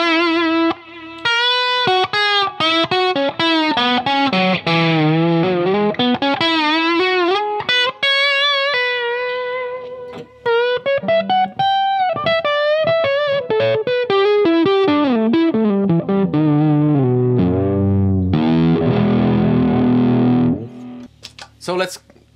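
Vintage V6 Stratocaster electric guitar through heavy distortion, with sustained bent lead notes and wide vibrato in a continuous, loud solo line, then chunkier low chords near the end.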